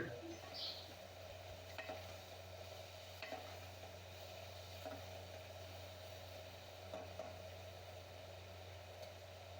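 A spoon stirs a masala mixture with turmeric in a pan, soft intermittent scrapes over a faint continuous sizzle of frying, quiet and close with no talking.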